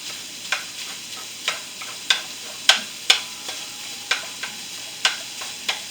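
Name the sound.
Italian sausage and ground beef frying in a skillet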